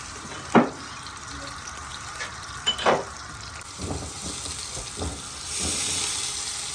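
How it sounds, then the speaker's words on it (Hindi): Onions dropped into hot ghee in a pan give a bright sizzling hiss, with a few clattering knocks and stirring scrapes, and the frying swells louder toward the end. "हमारा घी गर्म हो गया है, प्याज शामिल करते हैं"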